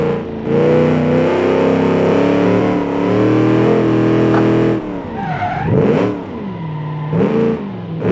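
A race car engine roars loud and steady in a hill-climb time trial racing game, then drops into rising and falling revs with swooping pitch near the end; no talk over it.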